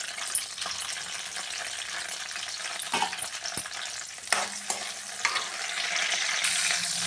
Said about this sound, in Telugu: ఆయిల్ బాగా హీట్ అయ్యాక పచ్చిమిర్చి కొంచెం వేగనివ్వాలి.